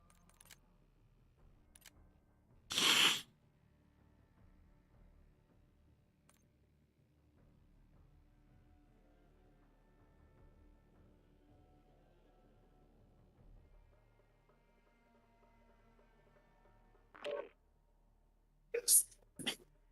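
A person sneezes once, loud and sharp against a quiet room, followed much later by a couple of short bursts that could be more sneezes or nearby clatter.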